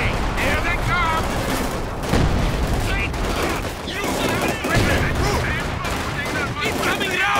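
Sustained battlefield gunfire from Company of Heroes 2 with Soviet Frontoviki squads under fire: dense rattling volleys and bursts, loud and continuous throughout, with voices calling out amid the shooting.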